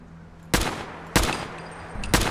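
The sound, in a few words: gunshots in a video game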